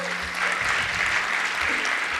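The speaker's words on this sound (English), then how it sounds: "big round of applause" Audience applause fills a gala in a temple auditorium, a steady, dense clapping from a large crowd that swells after a brief quieter start and holds throughout.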